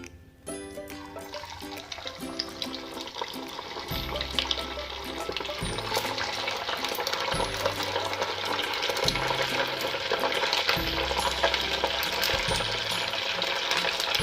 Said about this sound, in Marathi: आता आपण एक एक करून त्यांना फ्राय करून घेऊया